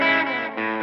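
A sustained distorted electric guitar chord rings through a Fender amp preset on a Helix Stadium, with mono delay into a washy spring reverb tail; it dips briefly, then swells back.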